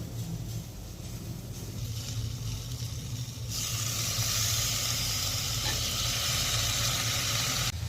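Mashed tomatoes hit a pan of frying onions for a Tamil fish curry, and a low crackle jumps abruptly into a loud, dense hiss of sizzling that holds steady to the end.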